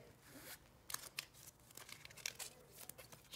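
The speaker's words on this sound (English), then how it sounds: "So I'm gonna shuffle my discards and go from there." A deck of Mystic Vale game cards being shuffled up close, with soft, irregular riffling and crinkling bursts scattered across a few seconds and no talking.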